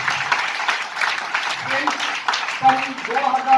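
An audience at an education presentation in Kanpur claps for the APLL app, a steady wash of applause throughout the moment with a voice speaking over it.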